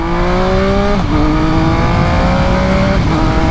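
A 2020 Triumph Speed Triple RS motorcycle in track mode accelerates hard, its engine note climbing steadily through two gear changes with a brief dip at each shift, loud and close throughout with no talking.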